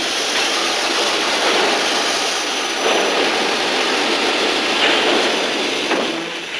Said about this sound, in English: The raw material, the aluminium ore, pours in by the lorry load.